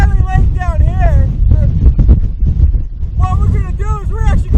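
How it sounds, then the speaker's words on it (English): Strong gusts of around 40 mph sweep across Jelly Lake on Kodiak, Alaska, with volcanic ash in the distance. A heavy low rumble buffets the microphone throughout while voices talk over it. "And it's windy."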